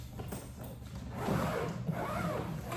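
Zippers on a Level 8 hard shell suitcase (RoadRunner and Textured models) drawn along the case in close, steady rasping runs, quiet at first and then louder and continuous for the rest of the pull.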